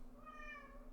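A cat gives a single sustained, clear meow nearby, steady and moderately loud, with faint background hum.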